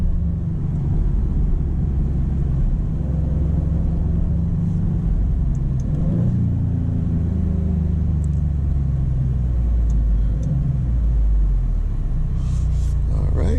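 A 2025 Maserati GranCabrio Trofeo accelerates, its engine a steady low rumble with rising and falling tones heard from inside the car, continuous and moderately loud throughout.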